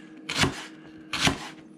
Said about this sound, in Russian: Вот так нарезаем кубиками.